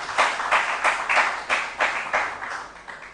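Audience applause at a school quiz show, a steady wash of many hands clapping in repeated swelling bursts, moderately loud and without speech.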